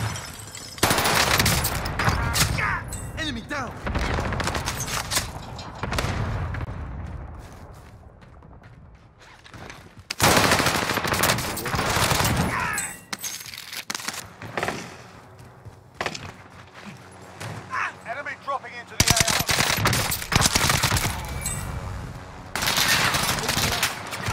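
MP40 submachine gun fire in Call of Duty: repeated loud bursts of rapid automatic shots in several separate volleys, mixed with mechanical clatter and game battle noise, close and dense throughout.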